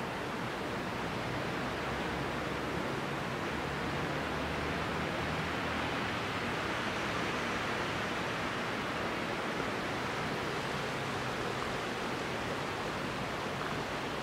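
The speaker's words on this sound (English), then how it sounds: "That's the sound I hear all the time. This is the River Tiber. Flowing by!" The River Tiber flows past with a steady, broad rushing wash of water that continues evenly throughout, with no voices.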